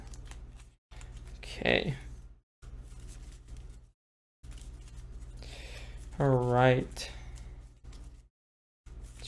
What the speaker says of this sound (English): these get shuffled into the encounter deck, which we're going to do right now